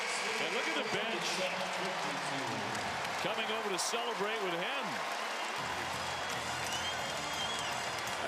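A basketball arena crowd applauds and roars after a late shot at the end of an ACC men's game, a steady wash of cheering and clapping under a commentator's voice.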